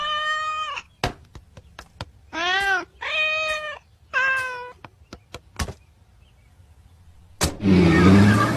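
A cat meows several times in clear, close calls, with sharp clicks and knocks scattered between them and a burst of noise at the end.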